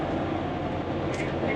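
An Amtrak passenger train rides along the tracks, heard from inside as a steady low rumble and hum of the car in motion, with a faint brief higher squeal partway through.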